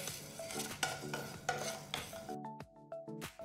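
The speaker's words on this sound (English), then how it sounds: "Dry roast the ingredients for about 2 to 3 minutes till you get a nice aroma." Coriander, cumin, fennel and fenugreek seeds dry roasting in a pan, with a spoon stirring and scraping against the metal in repeated strokes, a faint sizzle beneath, close and fairly quiet.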